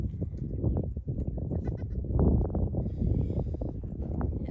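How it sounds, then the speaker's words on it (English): Pet goats in a family's pen bleating over one another in a dense, continuous chorus of close, loud bleats, with no clear talk. "And Melody, she's probably my best goat besides Baby Goat."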